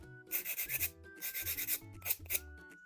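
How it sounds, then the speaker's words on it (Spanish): Sandpaper rubs over a ceramic bisque piece in quick bursts of raspy back-and-forth strokes, three clusters of several scrapes each with short pauses between, close and dry with no talking. "La lija sirve para sacar ciertas porosidades o rugosidades que no nos gusten."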